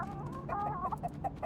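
Chickens clucking in the video game Tainted Grail, a few short, close clucks in quick succession over a low background murmur.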